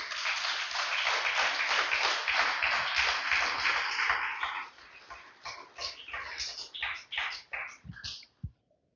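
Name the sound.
congregation applauding in church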